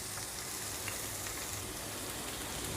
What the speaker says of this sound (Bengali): মরিচ ভাজা তেলেই আমি রসুন পেঁয়াজগুলো ভেজে নিব।